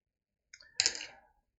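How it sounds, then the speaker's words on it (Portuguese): Steel sewing pins pulled out of fabric on a handmade cloth card holder, giving a short close rustle and a cluster of small clicks lasting under a second, with no talk. "Tira os alfinetes."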